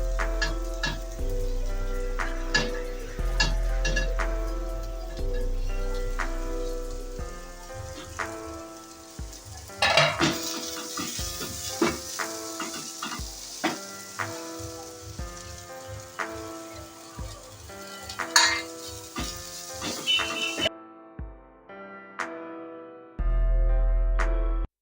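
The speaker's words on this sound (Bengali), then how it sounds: "একটু ঘি দিয়ে পেঁয়াজ রসুন আদাটা একটু সতে করে নেব" Onion, garlic and ginger sizzle in hot ghee with spices for a paneer paratha filling, a steady, close frying hiss punctuated by stirring clatter, with faint music underneath.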